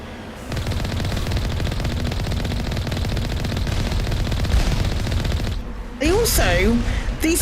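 Enemy turrets in Mass Effect Legendary Edition fire from a distance, a dense, continuous rattle of rapid gunfire. A voice speaks near the end as the shooting carries on.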